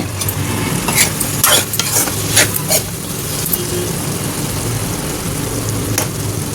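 Carrot and tomato curry cooks in a pan, with a few scraping stirs near the start, then a continuous soft sizzle, close and fairly loud.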